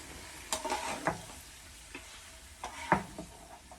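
Mixed vegetables frying in oil for Nigerian fried rice, a quiet sizzle under several clattering scrapes and taps of a spoon stirring the pan.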